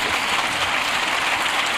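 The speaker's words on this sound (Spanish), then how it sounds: "Y ahí es cuando más aplauden el resto en contraposición" A packed chamber of the Colombian congress breaks into steady, dense applause, a continuous wash of clapping from many hands at even loudness.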